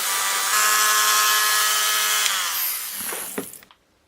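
A power tool bores and shapes the hole in a wooden pulley block for a ship's rigging, running as a loud, steady whine for a couple of seconds before winding down and stopping with a few rattles.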